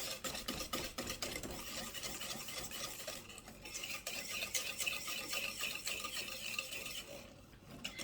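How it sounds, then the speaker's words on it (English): Coconut cream cake mixture being whisked by hand in a bowl, a busy continuous scraping and rattling of the whisk against the sides, close and fairly quiet, with no voices. "I'm just going to keep whisking this, just keep it moving"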